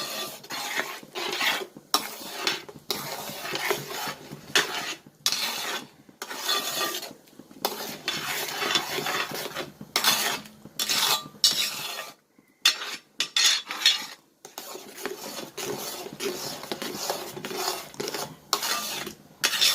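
Steady scraping and stirring of jackfruit jam in a pot, a spoon rasping against the metal in continuous strokes with brief pauses, close and fairly loud, no voices.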